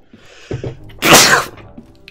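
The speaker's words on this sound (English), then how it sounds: "Excuse me. I'm sneezing." Sneeze from a character in Guardians of the Galaxy: The Telltale Series, a short intake followed by one sharp, loud burst, close and clear, with brief soft vocal sounds around it.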